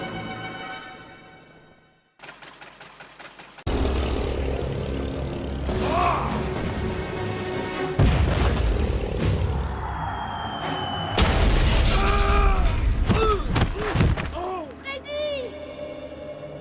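German aircraft squadron attack in the video game Valiant Hearts: engine drones and whistling dives build into booms and crashing impacts, loud and layered over game music.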